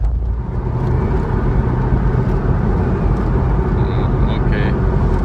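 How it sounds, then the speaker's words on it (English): A Porsche grinds over a rough 4x4 track, giving a steady, loud rumble of engine and road noise. A voice speaks briefly toward the end. "Off-roading with a Porsche."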